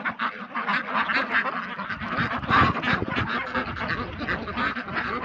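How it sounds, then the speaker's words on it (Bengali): Large Pekin ducks, around 7 kg each, at a riverside farm, a loud, dense flock chorus of overlapping nasal quacks with no break throughout. "বেজিং জাতের হাঁস"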